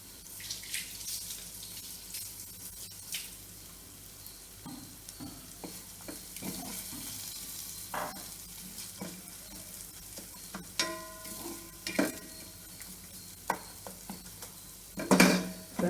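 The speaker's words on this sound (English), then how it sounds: "Have to saute it on a low flame for about a couple of minutes, because you want the green chilies to saute well" Green chilies and fenugreek seeds sauté on a low flame with a soft, steady sizzle and intermittent scraping of a spoon against the pan, close but quiet, with no talking.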